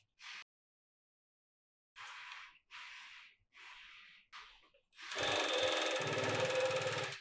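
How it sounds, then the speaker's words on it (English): Reliable 3100IC direct drive cylinder bed coverstitch machine sewing back over an overlap seam to lock it, heard as several short close bursts of stitching followed by a longer steady run. "we're going to actually sew over the stitch about a half an inch"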